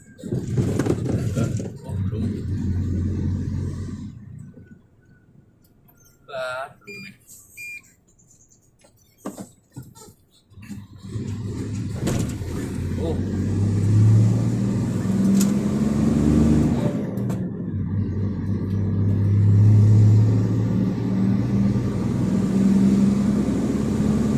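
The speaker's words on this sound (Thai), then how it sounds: "จากเสียงรถนี่เรารู้เลยครับว่ารถมันหนักขึ้นกว่าเดิมครับ" A heavily loaded car engine drones on the move, fading out briefly in the middle, then returning as a heavier, steady hum with a few knocks and rattles.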